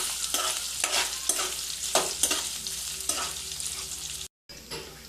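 Chopped ginger frying in a pan for pesara kattu, with bright sizzling and repeated spatula strokes scraping the pan, broken by a brief dropout near the end before the sizzle resumes.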